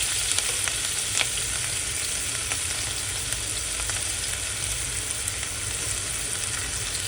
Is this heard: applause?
no